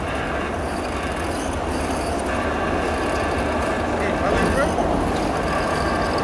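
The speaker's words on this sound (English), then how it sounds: "think I hooked up on that train going to Fremantle" A passenger train bound for Fremantle runs past near the Swan River Narrows in Perth, a steady rolling rumble with wheel squeal and clacking rails, fairly close and loud.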